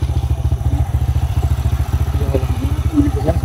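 A parked motorcycle runs by itself with a steady, loud, rapid thumping idle up close, while people talk faintly over the engine.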